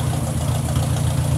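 A 1953 Ford Golden Jubilee tractor with a three-point hitch idles close by, its engine a steady, even low rumble throughout with no speech.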